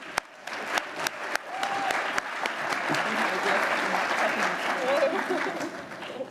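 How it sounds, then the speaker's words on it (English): Conference audience applauding a speaker at a 2018 healthcare conference, starting with a few scattered sharp claps that swell into steady, moderately loud applause from a mid-sized room, with some voices underneath. "If I can get a round of applause for Annikki, please."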